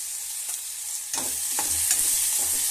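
A pan sizzles continuously while a utensil stirs, giving several distinct scraping clatters over the steady frying hiss, as ingredients for brinjal sambar fry.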